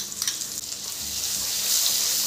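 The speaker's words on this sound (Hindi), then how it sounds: "मैंने जो पेस्ट तैयार किया था वो इसमें डाल देती हूँ ऑयल में, और अच्छे से इस मसाले को भून लेती हूँ।" Spice paste for a spinach and pea curry frying in hot oil, a steady close sizzle that swells louder toward the end, with no talking.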